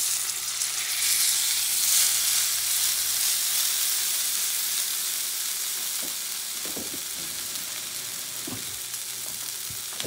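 Tuna searing in a hot cast-iron pan, a loud steady sizzle and hiss up close, with faint clicks and shifting of the fish toward the end.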